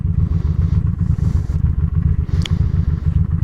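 A carbureted motorcycle engine runs close by with a loud, steady low throbbing pulse, its rapid even firing beats continuing without a break, plus a brief metallic clink midway.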